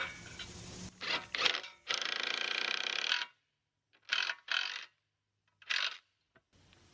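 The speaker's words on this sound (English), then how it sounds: "I've got a socket set hooked up to my impact driver." An impact driver with a socket drives bolts with washers into a wooden swing set bracket, giving several short ratcheting bursts close by, separated by brief pauses.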